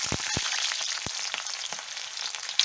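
Onions fry in hot oil for chicken chow mein, a bright crackling sizzle that runs throughout, close by, with a few sharp knocks and taps near the start.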